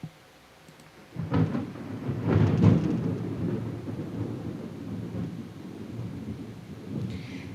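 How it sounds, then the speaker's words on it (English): A heavy thunderstorm: after a quiet start, a deep rumble of thunder rolls in and lingers beneath steady hard rain, loud and sustained to the end. "it's because it's raining rather hard here. I just had lightning loud enough"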